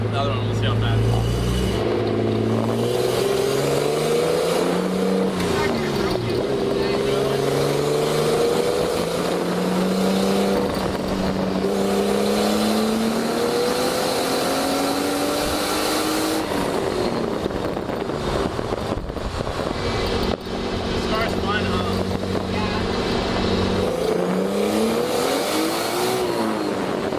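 An RB20 engine-swapped Nissan S13 drives on the street, its engine droning loud and steady with rising and falling revs through gear changes, heard from inside the car; voices talk over it at times.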